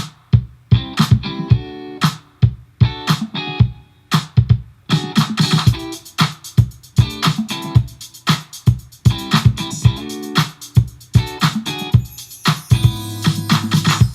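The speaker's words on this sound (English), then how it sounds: "So Curt also laid down some electric rhythm guitar in this section." Funky electric rhythm guitar from a jam section plays choppy, rhythmic chord stabs within a busy beat, with dense percussive hits throughout and a brighter texture building near the end.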